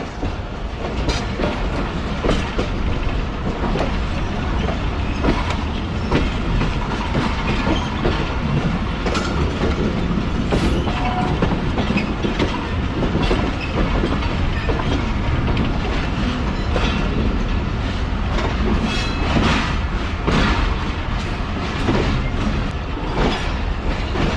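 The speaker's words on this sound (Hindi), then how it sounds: "काफ़ी शार्प कब लेकर पहुंची है ट्रेन प्लेटफॉर्म नंबर 3 पर।" Pak Business Express train pulling into platform 3 in Pakistan, a loud sustained rumble with rhythmic clickety-clack of wheels over rail joints and occasional metallic squeals, close by and without talk.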